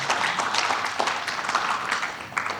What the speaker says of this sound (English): let's applaud for all the panelists